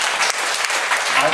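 Students in a sixth-grade classroom applauding, a brief, loud burst of many hands clapping together with voices mixed in.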